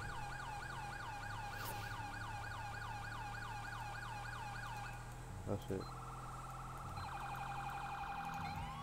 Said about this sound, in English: I'm switching this siren back for sure. This one sucks.